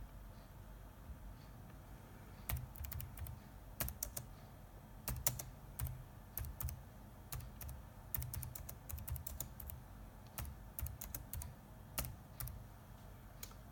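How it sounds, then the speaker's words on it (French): Steady typing of an email on a computer keyboard: irregular sharp keystroke clicks in quick runs and pauses, close by, over a low room hum. "Je tape mon texte."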